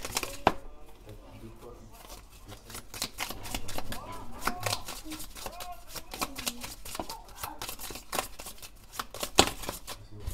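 Playing cards shuffled and drawn for a tarot-style reading, a run of quick crisp snaps and flicks up close, with brief riffles among them, under occasional speech.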